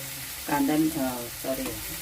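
Onion and tomato frying with salt for squid masala, a brief close sizzle with a couple of stirring scrapes over about two seconds.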